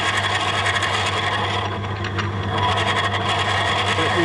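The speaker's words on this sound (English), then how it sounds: "we're getting a little bit of noise coming from the drill" A power drill runs steadily with a grinding, vibrating whir and rattling, holding an even pitch and loudness throughout with no pause.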